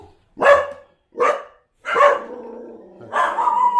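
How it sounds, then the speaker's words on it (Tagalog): A dog barks four times close by, loud sharp barks with short pauses, the last one drawn out into a growly whine. "galit ang aso sa akin"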